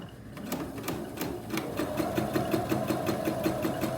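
A sewing machine runs steadily, stitching a 1/4 inch seam around the outer edge of a fabric face mask, its needle clattering in a fast, even rhythm close by with no talking.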